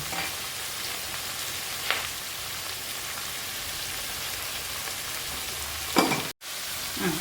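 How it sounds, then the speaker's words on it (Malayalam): Onion, shallots and green chilli sizzle steadily in a pan, with a faint continuous frying hiss and a few soft scraping stirs, ending in a brief clatter. "ഇതിനെ ഒന്ന് നല്ല ബ്രൗൺ കളർ ആവുന്ന വരെ നമുക്കൊന്ന് ഇളക്കി കൊടുക്കാം"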